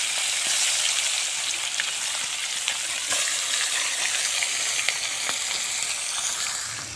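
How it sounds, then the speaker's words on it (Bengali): Fish fry in hot white oil in a wok, a steady close hiss of sizzling with scattered sharp crackles and pops and no voices throughout. "মাছগুলো দিয়ে এবারে ভালো করে ভেজে নেব লাল লাল করে"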